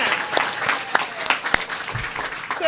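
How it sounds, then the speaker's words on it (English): Audience applause in a community event room after a speech by a borough president, a dense burst of clapping from many people with a few louder claps standing out. "Let's give him another round of applause."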